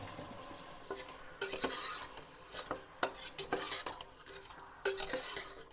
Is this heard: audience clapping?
no